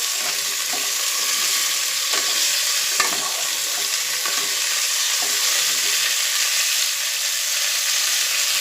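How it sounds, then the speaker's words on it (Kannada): Mixed vegetables for sambar fry in a hot pan with a loud, continuous sizzle, broken by repeated scraping strokes of a spoon stirring them. "ಇವಾಗ ಇದಕ್ಕೆ ನಾನು ತರಕಾರಿನ ಹಾಕೊಳ್ತಾ ಇದ್ದೀನಿ"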